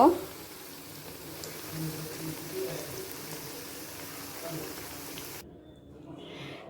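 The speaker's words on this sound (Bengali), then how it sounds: "আমি এরকম করে সবগুলা ভেজে নিব।" Vegetable pakoras fry in hot oil with a steady, even sizzle that holds for several seconds and then stops abruptly near the end.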